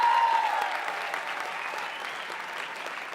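A comedy club audience applauds in a dense, steady burst that starts strong and gradually eases off, with a brief whoop near the start.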